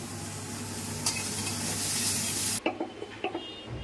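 Bitter gourd fries in a wok with a loud, continuous sizzle, then the hiss cuts off and a few sharp scrapes and clinks of a utensil against the pan follow.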